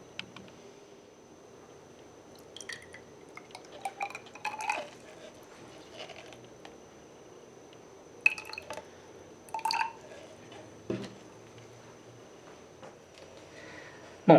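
Water trickling and dripping into a graduated plastic cylinder, measured out for mixing dental plaster, in soft intermittent bursts with light plastic clinks, close and quiet against a faint background hum.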